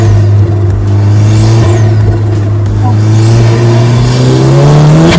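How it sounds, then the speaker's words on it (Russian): A BMW M5 F90 CS with rear-mounted turbos drones loudly and steadily as its engine revs and slowly climbs in pitch, with a faint turbo whistle above, under occasional talk. "У него вся фишка в том, что у него стоят турбинки сзади, их да, слышно."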